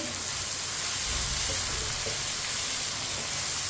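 Chopped tomatoes and green chillies sizzle steadily in a hot pan, a continuous loud frying hiss with soft crackles and no talking.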